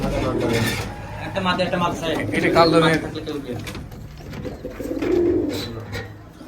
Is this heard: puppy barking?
no